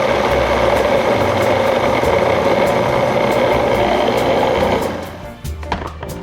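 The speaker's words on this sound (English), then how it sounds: "I'm putting the Oreo cookies in my food processor, and I'll just put it on." Food processor crushing Oreo cookies, a loud continuous whirring motor grind with rattling crumbs that runs steadily, then winds down and stops near the end.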